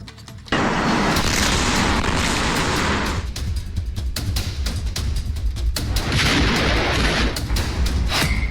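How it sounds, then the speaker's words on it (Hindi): A heavy roar of blasts and rumbling booms with sharp cracks, a series of explosions at a fireworks factory in Harda, loud and continuous for several seconds. "मौत का धमाका, कांप उठा इलाका।"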